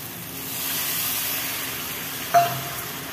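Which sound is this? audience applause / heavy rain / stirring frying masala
stirring frying masala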